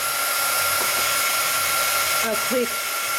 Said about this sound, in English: we're going to use our heavily painted Zap, the heat tool